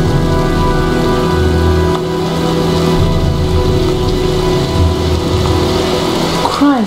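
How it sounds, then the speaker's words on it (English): Steady heavy rain pours on surfaces in a storm scene of the video game Heavy Rain. The hiss is loud and continuous throughout, over a low rumbling hum. "looks like a storm's coming"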